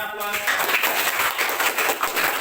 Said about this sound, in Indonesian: Tepuk tangan, aplaus.